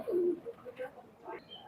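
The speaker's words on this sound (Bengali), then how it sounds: "এই যে কবুতর টেডি গোল্ডেন ক্রস, আমরা ছেড়ে দেখাচ্ছি" Teddy Golden cross pigeons cooing close by in a loft, a soft low coo followed by several short throaty murmurs and faint chirps, fairly quiet.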